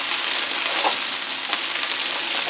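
Mushroom pepper jack Angus burgers sizzle steadily on a griddle, a loud, dense frying hiss that runs unbroken with a couple of faint spatters.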